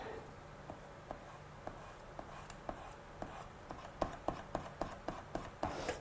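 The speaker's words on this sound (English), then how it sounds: "I'm just going to remove those pencil lines" An eraser rubs out pencil lines on paper during stamping and watercolouring, a series of quick close scrubbing strokes that grow firmer and more rhythmic toward the end.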